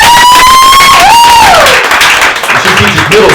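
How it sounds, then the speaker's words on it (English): A comedy club crowd breaks into applause and cheering, with whistles and whoops rising over dense clapping. The noise is loud and close, fading into a mix of voices. "Round of applause for school teachers."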